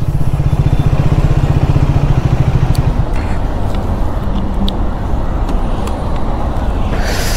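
A Triumph Speed 400 motorcycle engine thumps loudly while riding, with a close, rapid pulsing exhaust beat at first, then a rougher, windier roar as the bike moves on, with no talking.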